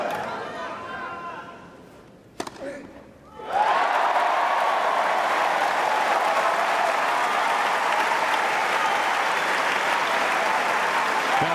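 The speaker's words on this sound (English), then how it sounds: "Crowd responding to Tsonga's antics." A Wimbledon tennis crowd bursts into loud, sustained applause after a short lull with faint commentary and a sharp knock, the clapping dense and even for the remaining eight seconds.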